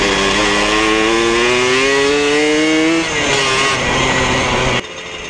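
Yamaha RX King two-stroke motorcycle engine revs loud and close, its pitch climbing steadily before dropping back to a rough idle, then cutting lower near the end.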